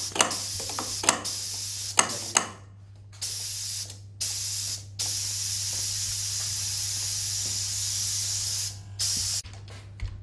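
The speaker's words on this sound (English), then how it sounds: "Finally it will actuate the double acting cylinder." Pneumatic trainer kit with a double acting cylinder firing repeatedly, sharp bursts and long steady hisses of compressed air separated by brief clicks, over a constant low electrical hum and no talking.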